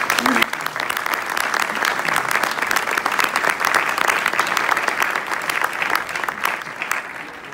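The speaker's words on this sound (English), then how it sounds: "let's give them a round of applause for all their accolades" Audience applause for a youth mariachi ensemble at a school district event, a steady, dense clapping crowd sustained for several seconds, fairly loud and close.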